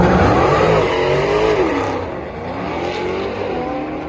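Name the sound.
Dodge Charger drag race wheelspin at Irwindale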